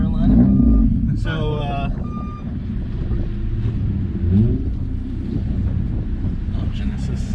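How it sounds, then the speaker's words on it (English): The exhaust of a Honda Accord with an all-motor H23A engine rumbles low and steady while driving, sitting beneath ongoing conversation inside the car, with some wind buffeting. "Every time we hear the exhaust, we looking for it."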